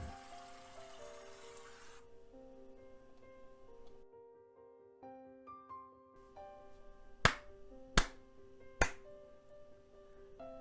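Three sharp claps, a sound effect in a Korean audiobook about people applauding, ring out one after another over soft sustained background music.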